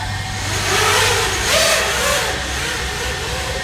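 FPV drone motors spin up after arming indoors, a steady whining hum that swells and dips slightly in pitch, loud and close, with no talk over it.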